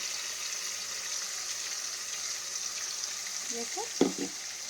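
Meat with onion and garlic frying in just a little oil, a steady broad sizzle running throughout, with a brief clatter of stirring near the end.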